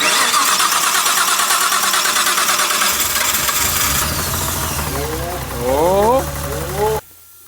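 Nissan Skyline R34 with a swapped RB26DETT cranks and fires up for the first time, catching loudly and revving over a steady roar before cutting off abruptly, with people talking close by.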